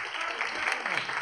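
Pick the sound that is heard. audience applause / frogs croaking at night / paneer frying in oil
audience applause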